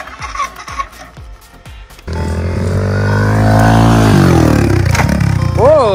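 A motorcycle starter cranks in quick repeated chugs for about two seconds, then the engine catches and revs up loud and close, holding a rising, buzzing roar; voices may be faintly present.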